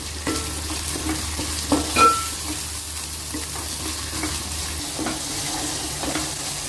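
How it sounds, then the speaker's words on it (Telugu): Tomatoes fry over a medium flame for Andhra goat mutton curry, a soft continuous sizzle broken by scraping stirs of a spoon in the pan, close by and with no talk. "ఇలా టమాటా అంతా వేగాలి."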